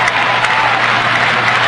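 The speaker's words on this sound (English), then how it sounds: "the crowd beginning to chant for the Philippines" A Filipino crowd at a 1991 Manila SEA Games basketball game, Philippines against Thailand, roars steadily in a big arena, a dense continuous wall of cheering and chanting with no break.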